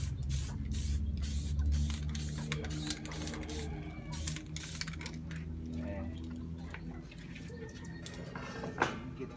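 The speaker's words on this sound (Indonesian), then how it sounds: "Kita tahap dari yang tipis dulu, nanti baru kalau ada yang perlu disemprot ulang baru kita semprot ulang ya." A spray gun lays thin coats of paint on an SME BE85 during restoration, with a series of short hissing bursts separated by brief pauses over a low background hum, close and moderately loud.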